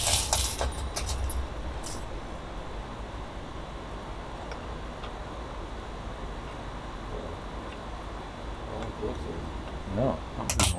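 Allen keys jangle during work on an American-made 2003 Fender Telecaster, a natural relic player getting a Tusq nut and truss rod adjustment; short metallic rattles at the start and end with a steady noisy background between them.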